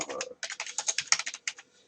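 A computer keyboard tapped quickly during video-editing work, about a dozen crisp key clicks in a quick irregular burst, close and isolated with no voices.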